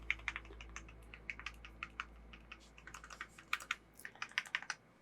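Typing on a Keychron Q1 HE mechanical keyboard fitted with non-clanky keycaps and rattly lubed stabilizers, a quick close-up run of soft, muted key clicks in an uneven rhythm with a few louder stabilizer clacks.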